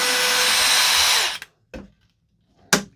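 A DeWalt 12-volt cordless drill whirs at high speed for over a second, then winds down and stops, followed by two short sharp bursts of the motor.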